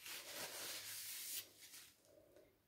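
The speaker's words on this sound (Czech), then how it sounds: "Ten nůž nabrousíme." A dull knife is drawn across a whetstone in a few slow, faint rasping strokes that fade toward the end, with no speech.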